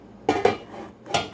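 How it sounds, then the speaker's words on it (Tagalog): Three sharp metallic clanks, close and loud, as a lid is set down and settles onto a cooking pot. "Tapos, tatakpan natin siya."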